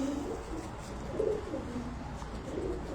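Soft, throaty coos repeat a few times from an 18–19-year-old pigeon. They are low and quiet against faint background noise, and nobody talks.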